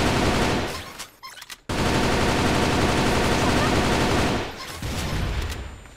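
Game combat audio from CrossFire mobile in a team deathmatch, with dense continuous gunfire, a brief lull, then a loud burst fitting a flashbang grenade before the shooting resumes.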